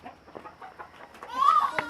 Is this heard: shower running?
no